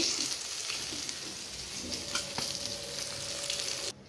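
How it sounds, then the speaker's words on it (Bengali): Fish fry in hot oil in a pan with a steady, close, hissing sizzle and a few crackles. The sizzle drops away sharply at the end. "মাছগুলোকে উল্টে দিতে হবে উল্টে দেবো মাছগুলো উল্টে দিয়েছি মাছগুলো ভাজা হয়ে গেছে"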